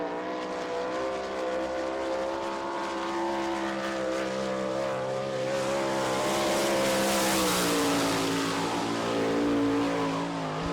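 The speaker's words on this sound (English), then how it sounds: "the first lap for Billy Pouch" Sprint-style race cars circle a dirt speedway in Barberville, Florida, at an All Star Circuit of Champions Speedweek event, a steady loud roar of several engines with rising and falling pitch as they pass, no voices over it.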